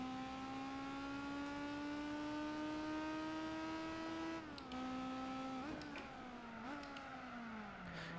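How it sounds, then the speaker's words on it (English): A Nissan 350Z engine in the Gran Turismo 4 racing game holds a steady high drone, then shifts pitch with rev changes near the end, loud and alone without talk. "doesn't really sound too much like a 350Z. It sounds like a mix between a typical 4-cylinder and a Z"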